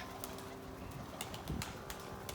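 A tumbler pigeon in a coop gives low, soft cooing amid faint rustling and a few light flaps, quiet and close with steady background hiss.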